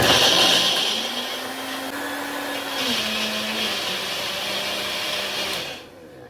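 A NutriPro 500W blender switches on and runs alone with a loud, steady motor whir for about six seconds, its pitch dipping slightly partway through before the motor cuts off abruptly at the end.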